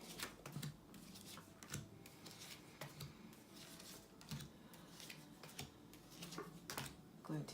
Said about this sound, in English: We're going to shuffle out the piles.